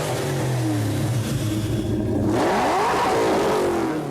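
A Ford Mustang engine revs hard at a car show rumble contest, a deep continuous roar that climbs in pitch partway through, loud and close with no talk.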